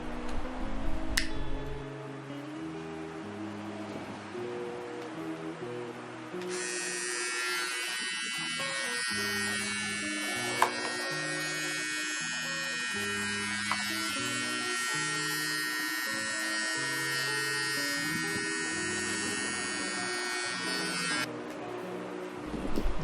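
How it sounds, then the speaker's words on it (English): Philips Multigroom electric trimmer with a 9 mm attachment cutting hair above the ears, a close, steady high-pitched buzz that starts after a few seconds and runs continuously for about fifteen seconds before cutting off. "I use the 9 mm trimmer to trim the hair above my ears."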